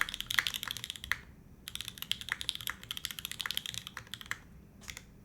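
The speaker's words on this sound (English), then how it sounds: "this keyboard sounds nice" Rapid clicky keystrokes on a mechanical computer keyboard with Papu switches, played in quiet irregular bursts with brief pauses between runs, close and crisp but low in level.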